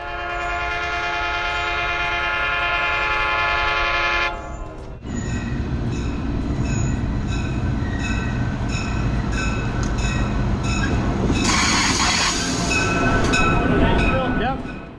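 A commuter train horn sounds in long harmonic blasts, then a bell rings and the rumbling train with gallery cars and an F40PH diesel locomotive approaches, with hissing brakes near the end.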